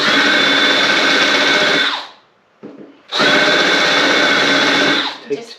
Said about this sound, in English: Just trying to countersink them a little bit.